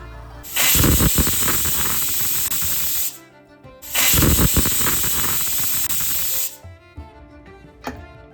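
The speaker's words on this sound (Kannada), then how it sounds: "ನೋಡಿ ಕುಕ್ಕರ್ ವಿಸಿಲ್ ಹೋಗಿದೆ." Two long, loud, shrill steam whistles from a pressure cooker, each lasting about two and a half seconds, separated by a short quieter pause with soft kitchen clatter.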